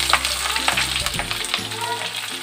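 Curry leaves, slit green chillies and onion sizzle and crackle steadily in hot oil in a pan, a close, continuous frying hiss with light stirring scrapes.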